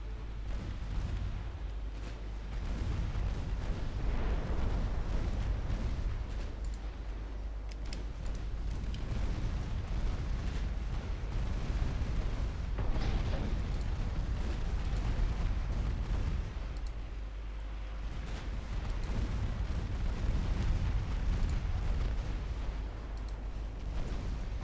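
Naval battle in Ultimate Admiral Dreadnoughts, heavy ship guns booming with shell explosions in rolling bursts and lulls, deep rumbling throughout, no talking.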